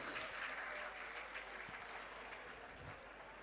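Audience at an Urdu literary conference claps in sustained, dense applause, a crackling wash of many hands heard from within the hall that slowly tapers.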